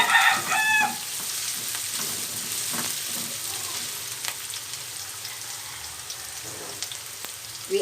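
Ground meat and carrot frying in a pan for tortang giniling, a continuous close sizzle with scattered stirring clicks and scrapes, no talk.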